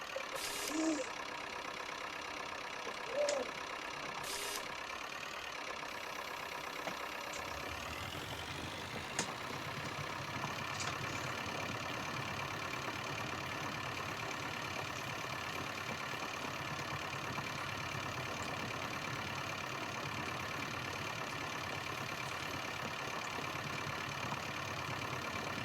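A farm tractor idles on a grass field being ploughed, its engine holding a steady, continuous mechanical drone throughout, with a few brief knocks and a shift in pitch early on.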